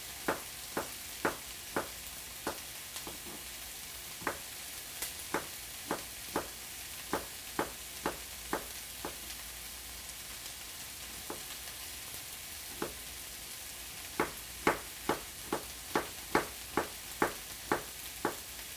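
Peppers frying in a pan while being stirred, giving a steady low sizzle broken by sharp, evenly spaced scraping clicks of the utensil, which run in two clusters with a quieter stretch between them; no talking.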